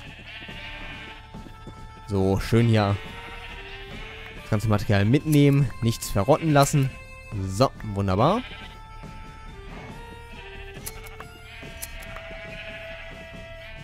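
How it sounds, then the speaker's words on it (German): Sheep bleat repeatedly from a flock in a farm pen in the video game Minecraft, sounding in several wavering bursts under someone speaking German. "Schnippeln wir jetzt erstmal wieder einmal quer durch die Schafherde durch"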